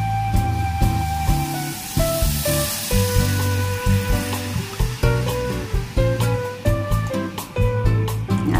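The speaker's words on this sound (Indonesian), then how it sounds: "lalu kita masukkan susu cair." Liquid milk hits cooked flour in a hot pan and sets off a close, steady sizzle and hiss. A tonal melody, likely background music, carries on underneath throughout.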